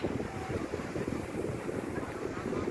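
Wind buffets the microphone at a crowded beach on a hot day as sea waves wash in, a constant rough rumble with surf hissing underneath, loud and unbroken with no clear speech.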